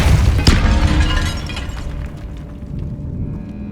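Depulso spell cast in Hogwarts Legacy, a loud burst with a sharp crack near the start that gives way to a rumbling, shattering tail and then a steady hum. No voices are heard.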